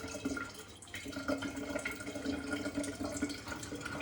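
Water running steadily from an Ecosoft drinking water filter tap during a filter replacement, a soft continuous trickling splash into a sink, faint and close, with no talking over it.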